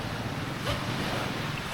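Ocean waves at night beside a beach campsite make a steady broadband wash with a slight swell midway, mixed with wind noise on the microphone.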